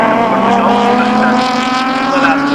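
A VW Cup race car pulls out of the pit lane after a long stop during a 2001 race at Snetterton, its engine a steady, loud, buzzing drone with strong harmonics held throughout.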